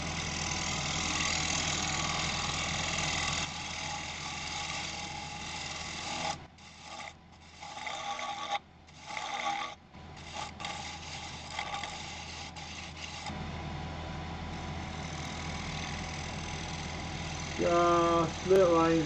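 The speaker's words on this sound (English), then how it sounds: "Might go to a scraper just to try and smooth that round." A negative rake scraper smooths a round of spinning wood on a lathe, giving a steady, close, gentle rasping hum with a few brief pauses as the tool lifts, then resumes.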